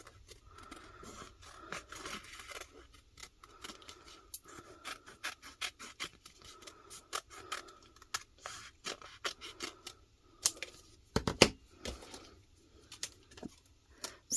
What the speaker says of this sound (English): I'm just going to trim this down now quick,